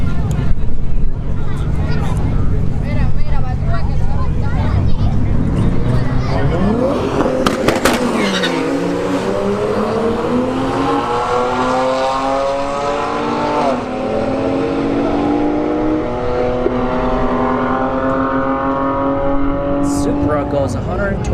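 Mark IV Toyota Supra and Acura TLX drag racing on a street-heat night at Bradenton Motorsports Park: loud engines roar and rev hard, pitch sweeping up through gear changes as the cars launch and pull away, with an announcer talking over it.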